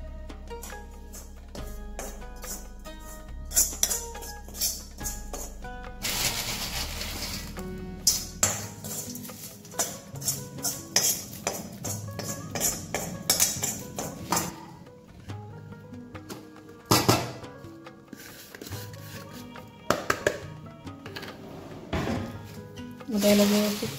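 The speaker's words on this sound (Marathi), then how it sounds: "आता याला व्यवस्थित मिक्स करून घ्यायचं आहे।" A spoon mixes Solapur-style Lamboti corn poha chivda in a metal pan with oil, making irregular clinks, scrapes and rattling knocks at close range, with short quiet gaps between bursts.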